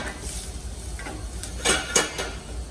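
Onions sweating in a pan for quinoa risotto, a soft steady sizzle with a few sharp stirring scrapes and clinks near the end.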